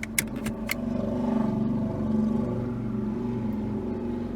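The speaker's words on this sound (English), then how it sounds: "now it's time to put the car into gear" A 2008 Ford Focus being put into gear with the engine running, a couple of sharp clicks from the shift followed by a steady engine drone that swells briefly, close and alone with no talk.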